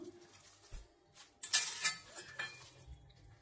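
Ground chutney is scraped out of a stone mortar into a bowl, giving a few sharp clinks and scrapes of utensil on stone and dish. The sounds are close by, set among quieter handling noises, with no voices.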